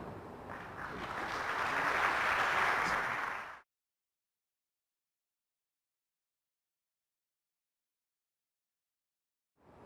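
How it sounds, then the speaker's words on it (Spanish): An audience at a Latin American futures forum claps for an introduced speaker, a dense swell of applause that builds and then stops abruptly, followed by silence. "Un aplauso para él."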